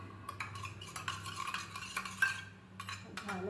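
A spoon mixes dough in a bowl, giving soft irregular scraping and stirring strokes, quiet and close, with brief clinks between them.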